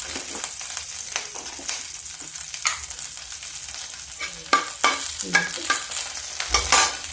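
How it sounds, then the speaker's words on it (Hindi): Garlic sizzles and crackles in hot oil while cooking masoor dal, with a spoon stirring and scraping the pan now and then, close and continuous. "देखिए मेरा तेल गर्म हो गया, मैं लहसुन डाल दिया।"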